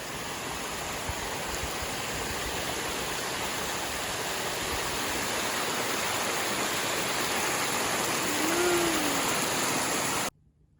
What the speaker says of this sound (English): Pretty hardcore, these cascades.